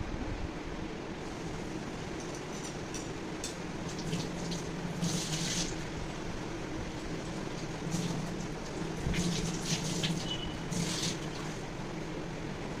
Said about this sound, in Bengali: আর এবার ফুলটাকে আমি ধুয়ে নেবো একটু